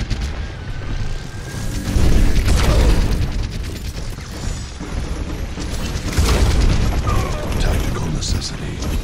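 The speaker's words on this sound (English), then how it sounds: "Sentry turret placed." Symmetra's sentry turret being placed in Overwatch, with a mechanical whirring, ratcheting deployment alongside layered gunfire and explosive booms from the match around it, loud and continuous.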